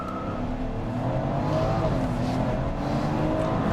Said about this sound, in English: Oh, there is launch control.